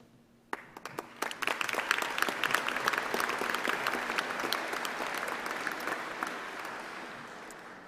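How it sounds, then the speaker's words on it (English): A graduation ceremony audience at the University of Central Lancashire breaks into applause, starting with a few scattered claps and swelling into sustained, dense clapping across a large hall that slowly tapers, with no voices over it. "I promise no more clapping for at least 2 minutes."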